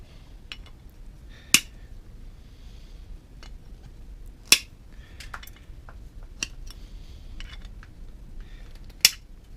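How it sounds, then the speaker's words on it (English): Sharp metallic snips as wire cutters clip pins off knife handles, several crisp isolated clicks spaced a few seconds apart over a quiet background, with softer small ticks in between. "now that I've got all the pins clipped off"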